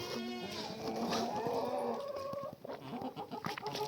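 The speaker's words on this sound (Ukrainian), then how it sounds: "кури ходити теж хочуть" Several chickens cluck and squawk close by, with busy overlapping calls that thin out into scattered clucks toward the end.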